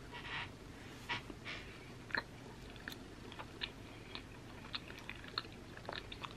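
Close, quiet chewing of Gouda cheese topped with apple maple bacon jam, soft wet mouth sounds and small crunchy bites in an irregular rhythm over several seconds, with occasional breaths and no talking.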